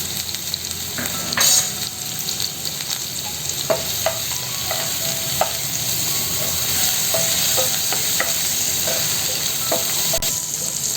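Turmeric, ginger and green chillies fry in a pan with a continuous loud sizzle, broken by scattered spatula scrapes and clinks of stirring, close up and with no talk.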